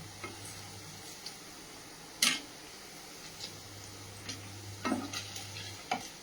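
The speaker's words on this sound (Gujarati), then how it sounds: "હવે આપણે આ પનીરને કાઢી લઈશું. આ ફ્રાય થઈ ગયા છે." Paneer fries faintly in a pan, a soft, steady sizzle with a low hum beneath and a few sharp utensil clicks and scrapes scattered through.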